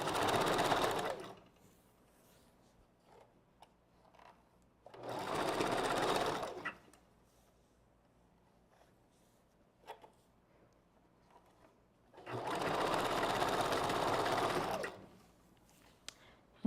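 A sewing machine stitching during wig construction runs in three steady whirring bursts, separated by quiet pauses with small handling clicks, close and clear.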